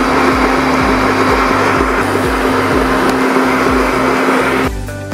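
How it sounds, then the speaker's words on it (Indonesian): An electric mixer beating eggs and sugar for sorghum brownies, a loud steady motor whine with a pulsing low hum, running continuously before easing off at the very end. "Masukkan telur, kemudian gula pasir. Kemudian kita mixer sekitar 10 menit."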